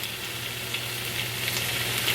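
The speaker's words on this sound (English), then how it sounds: "Let all that just simmer all together." Onions and green peppers with salt, pepper and Italian seasoning simmer and sizzle in a pan, a steady soft frying hiss with faint crackles, close and continuous with no voices over it.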